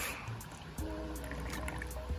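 Water poured from a Core Hydration bottle into a cup: a soft, close trickle that swells into a filling, gurgling stream, alone and fairly quiet.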